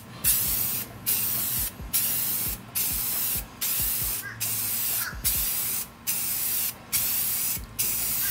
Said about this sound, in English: We're gonna lay down a coat of Rust-Oleum gloss white.